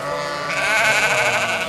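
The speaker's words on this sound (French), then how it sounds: "Tous les jours je déplace des troupeaux de moutons." A flock of sheep bleats continuously on Alpine pasture, several overlapping wavering cries close by and fairly loud, with no talking.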